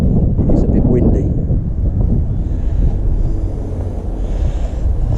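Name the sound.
wind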